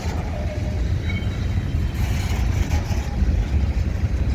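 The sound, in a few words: freight train moving slowly into the rail yard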